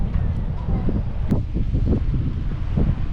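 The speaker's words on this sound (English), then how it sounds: "it's considerably windier than earlier" Strong gusting wind buffets the microphone beside a Michigan lake, a loud continuous low rumble with irregular surges and possible waves underneath, no voices.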